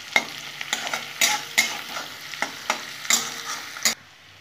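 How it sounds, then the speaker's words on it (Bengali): Pasta fries in a pan with a soft sizzle while a utensil scrapes and stirs it in a regular rhythm, about eight distinct strokes, close and clear, ending abruptly. "এটা একটু ভেজে ভেজে নেবো।"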